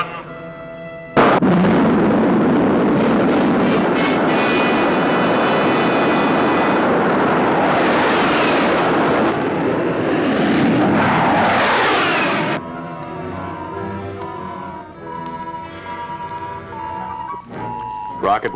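A rocket launch from the 1958 science-fiction film War of the Satellites: a loud, sustained roaring blast with whistling tones bursts in and holds for about eleven seconds, then gives way to quieter tonal electronic music.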